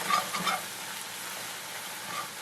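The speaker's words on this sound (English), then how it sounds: "we're going to whisk it in for a minute or two" Flour being whisked into melted butter for brown onion gravy, a soft continuous sizzle with light scraping and stirring in the pan, close and steady.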